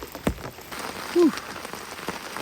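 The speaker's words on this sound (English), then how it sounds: "That rain seems to come and go. It's a bit heavy at the moment." Rain falls steadily on a mountain campsite in the Pacific Northwest, a dense close patter on surfaces with a few louder drips and a brief bright squeak partway through.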